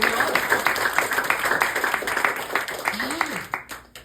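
Church congregation clapping during a Spanish-language Pentecostal sermon on baptism in the Holy Spirit, a steady patter of hands under shouting voices, with a rising vocal sweep near the end before fading.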